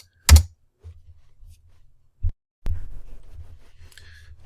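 A few separate keystrokes tap on a computer keyboard, three sharp clicks spaced apart in a quiet room, with faint low background noise between them.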